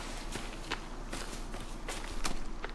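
Footsteps in the survival video game The Forest, a steady series of soft crunching steps on ground, faint and distant, with a brief slightly louder patch near the end.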